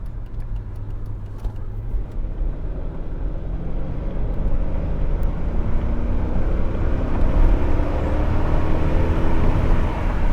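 A Mercedes S55 AMG accelerates hard, its engine roar building steadily louder and higher over about ten seconds, close and continuous with no talking.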